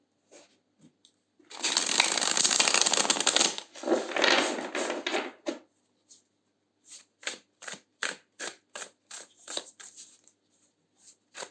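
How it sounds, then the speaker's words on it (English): A deck of tarot cards being shuffled, a long dense riffling burst followed by a shorter one, then a string of separate crisp card snaps and taps, close and clear with no talking. "Let's shuffle once more."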